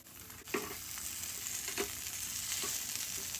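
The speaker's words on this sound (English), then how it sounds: "we're going to fry it until it's golden brown" A shrimp quesadilla frying in a pan until golden brown gives a steady, close sizzle with a few soft scraping stirs or nudges, and no voices.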